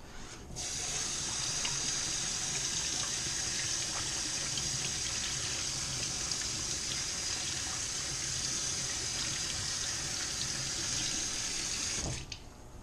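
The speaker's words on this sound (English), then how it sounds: "Wash my hands." Hands washed under a running kitchen tap, a steady close rush of water lasting about twelve seconds and then cut off.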